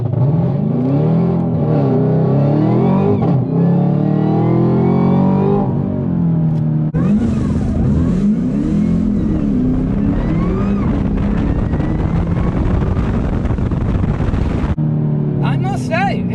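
A supercharged Chevrolet Camaro ZL1 accelerates hard on a test drive, its engine climbing through repeated revving pulls heard from inside the cabin while people talk.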